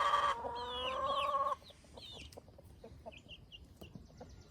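Hens cluck and squawk loudly up close for the first couple of seconds at a backyard flock of lavender and splash chickens in the morning, then softer clucks and chirps continue farther off.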